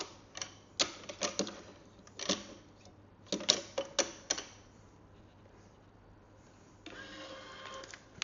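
A racquet stringing machine works the strings on a Head Boom Pro racquet, giving clusters of sharp clicks and ratcheting clacks in uneven bursts, then a softer rattling stretch near the end.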